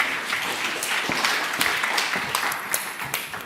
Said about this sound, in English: I think we need to have a round of applause for John and for Helen, actually.